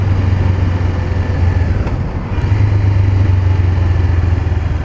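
A Honda CB500R motorcycle engine decelerates, its close, steady low rumble dipping briefly midway before settling back into a constant drone.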